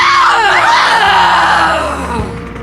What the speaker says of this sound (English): All you hear back is just a high scream of fury.